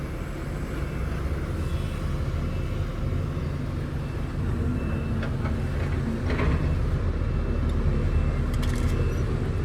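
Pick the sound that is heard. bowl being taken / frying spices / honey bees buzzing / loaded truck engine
loaded truck engine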